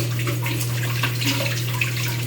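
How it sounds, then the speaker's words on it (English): Fingers being rinsed under running tap water, a steady close splashing stream with a constant low hum beneath it, heard alone. "I'm going to wash my fingers off."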